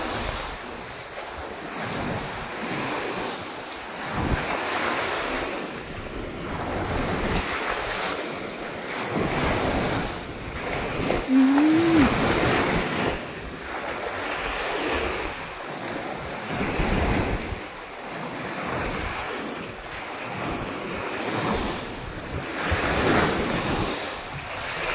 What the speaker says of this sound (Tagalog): The wave here is big.